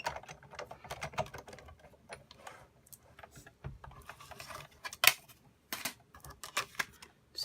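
A Big Shot die-cutting machine cranks a card through a partial die cut, giving irregular soft clicks and rattles with a few sharper snaps, quiet and close.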